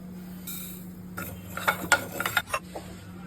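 Cumin, mustard and fenugreek seeds being dry-roasted in a pan for tomato pickle, with a spoon scraping and clinking against the metal in a quick cluster of taps over a low steady hum.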